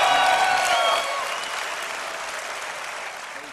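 An EVE Online Fanfest crowd cheers and applauds for Team Tranquility at a live event, loud at first with voices mixed into the clapping, then settling into sustained applause that slowly fades.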